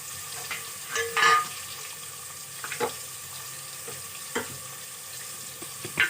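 Onions fry in oil with popped mustard seeds, cumin and fenugreek, giving a constant close sizzle broken by intermittent stirring scrapes and clinks, and no one speaks.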